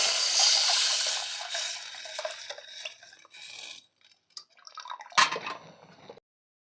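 Squeezed tomato juice pours and splashes into a cooking pot for tomato rasam, with a wet, dripping flow that breaks into small splashes and clinks of the vessel. It is fairly close and no voices are heard.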